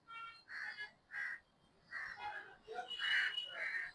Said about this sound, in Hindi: ऊपर कौवे भी इंतजार में